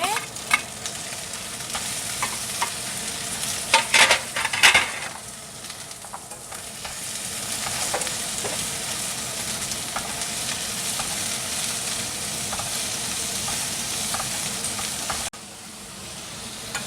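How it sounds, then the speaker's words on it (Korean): Meat and chicken nuggets fry in a pan with onion and paprika added, a steady sizzle running throughout with bursts of stirring and scraping near the start, close and fairly loud, no voices. "고기하고 치킨 너겟하고 거의 다 익었을 때쯤 양파랑 파프리카랑 다 넣으세요, 한 번에."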